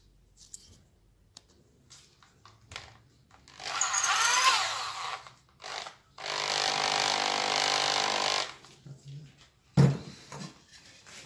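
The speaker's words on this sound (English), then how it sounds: "Basically, I'm going to make a countersunk hole in here now." A drill bit cutting a countersunk hole for a nut, heard as two sustained whirring bursts of several seconds each, with scattered clicks and handling knocks between them.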